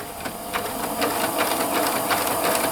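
A Pfaff Classic Style sewing machine stitching a buttonhole with the buttonhole foot, giving a fast, even, close mechanical whir with a regular stitch rhythm that runs without pause.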